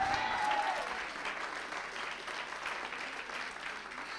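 A church congregation applauding during a sermon, sustained dense clapping from many hands that fills the room evenly, with a brief voice at the very start.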